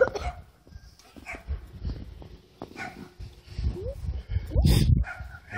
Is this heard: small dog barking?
yes